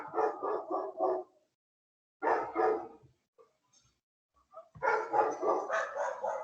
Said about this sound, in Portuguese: Estou com uma poluição auditiva grande aqui, caminhão, cachorro latindo, tá uma loucura.